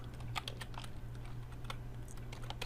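Close, steady computer keyboard typing while writing Android code, a quick stream of crisp key clicks over a constant low hum, with no speech.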